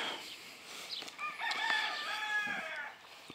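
A muff hen with her chicks is heard as a rising crowing-like fowl call, fairly close and moderately loud, over soft outdoor background noise.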